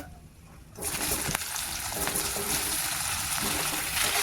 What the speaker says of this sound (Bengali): এবার আমগুলো কড়াইয়ের মধ্যে ঢেলে দেব।